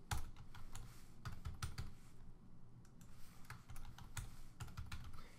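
Keys on a computer keyboard are typed rapidly in short bursts of close, crisp clicks as a password is entered, with brief pauses and no talking.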